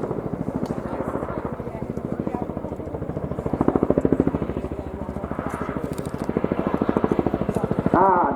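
Tandem-rotor Chinook helicopter performing its flying display at the Royal International Air Tattoo 2022, a loud, steady rapid blade chop with throbbing swells as it manoeuvres, with a crowd or commentator's voice faintly under it.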